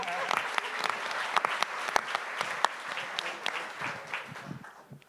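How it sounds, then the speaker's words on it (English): Audience applause for a guest speaker at an education ideas event, dense steady clapping that fades slightly toward the end. "let's give BJ a big round of applause"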